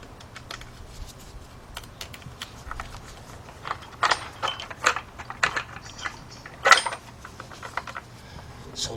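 Ratchet clicks and metallic mechanical clatter from unbolting engine parts on a 2006 Kia Sportage 2.7 during engine removal, coming in short irregular bursts that are louder around the middle of the clip.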